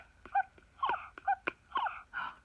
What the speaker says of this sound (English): It was sneezing.